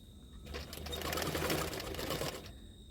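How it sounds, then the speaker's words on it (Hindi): A sewing machine stitching the lining around a blouse neckline while small pleats are tucked in, running in a rapid, steady mechanical chatter for about two seconds, close and moderately loud. "अभी मैं इस तरह से छोटा छोटा प्लेट डालते हुए पूरे गले में सिलाई कर लूँगी"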